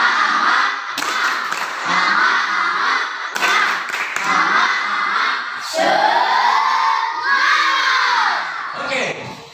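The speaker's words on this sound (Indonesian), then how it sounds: "Tepuk semangat." A class of children performs a spirit clap routine, loud chanting and shouting voices nearby punctuated by a few sharp bursts of clapping, ending in a rising cheer.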